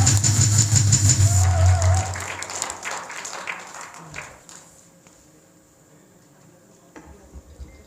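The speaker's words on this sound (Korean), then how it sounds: "큰 박수로 맞아주시기 바랍니다." Applause from a crowd at a rally welcoming a speaker to the stage, fairly loud at first over a droning background and then fading away over several seconds to near quiet.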